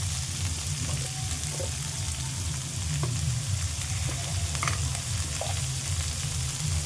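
Winter vegetables fry in a pan with a constant dense sizzle, steady and close throughout, with occasional faint clinks of stirring and no voices.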